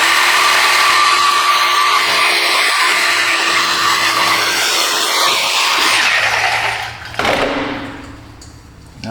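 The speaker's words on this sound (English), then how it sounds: "I'm gonna cut right on the face of that weld here." A power tool cuts through the exhaust flex pipe weld on a Ford Explorer, grinding loud and steady at close range for several seconds before winding down near the end.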